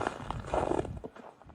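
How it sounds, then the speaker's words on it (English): Footsteps walking on snow, a series of soft crunching steps close by, uneven in rhythm and fading toward the end. "The next is the sound of walking on snow."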